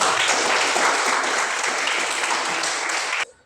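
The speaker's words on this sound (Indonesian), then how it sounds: "Tepuk tangan untuk kita." Applause from students in a classroom, a dense, steady burst of many hands clapping for about three seconds before cutting off abruptly.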